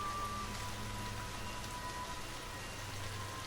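Light rain falls outside a tent in a forest at night, a soft, even patter that holds steady, faint and alone, with a low hum underneath.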